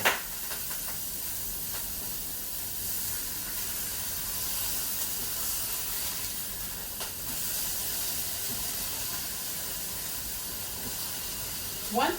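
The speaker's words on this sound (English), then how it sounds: "it sounds like our burgers are ready to be flipped" Bison burgers frying in a hot pan give a steady, broad sizzle and hiss that runs unbroken throughout, with a few faint pops and clicks from the cookware.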